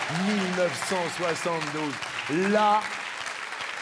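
Audience applause rises at a French festival event as a dense wash of clapping under voices talking loudly over it.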